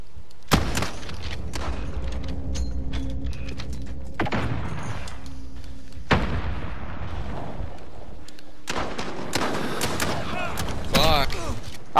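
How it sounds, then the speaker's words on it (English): Shotgun blasts in a multiplayer video game gunfight, a few heavy booming shots separated by pauses amid mechanical reload clatter and game effects, with players talking over them. "Shotguns, dude."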